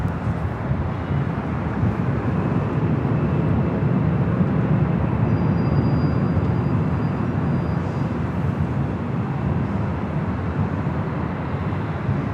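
Airbus A319 airliner at Los Angeles airport, a steady, loud jet engine roar with broad rumbling noise holding throughout, no voices.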